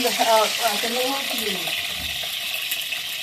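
Eggs slide into hot oil and fry with a steady, bright sizzle that runs the whole time, while someone talks over it at the start in a home kitchen.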